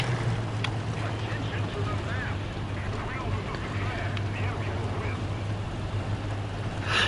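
A tank engine in the War Thunder video game drones steadily and loudly with a constant low hum and broad rushing noise that never lets up.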